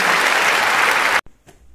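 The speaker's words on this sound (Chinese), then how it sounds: "我们掌声有请下一位选手" A talent-show audience gives loud, dense applause to welcome the next contestant onto the stage. The clapping stops abruptly after just over a second, leaving near silence with a faint trailing sound.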